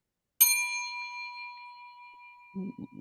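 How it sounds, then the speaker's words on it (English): A school bell in a tabletop role-playing game rings out with one bright, sustained metallic chime that decays slowly over about two seconds, followed by a few short low thumps near the end. "So you hear from the outside the school bell."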